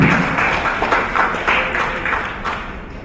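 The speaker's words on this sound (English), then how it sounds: "Give applause" An audience at a climate economy event in Indonesia claps in warm applause, a loud, dense patter of many hands that fades slowly toward the end.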